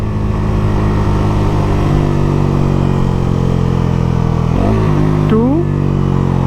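Bajaj Pulsar NS 400Z motorcycle engine downshifting through the gears, a steady loud mid-pitched drone with short blips in revs at each shift, recorded close on the bike.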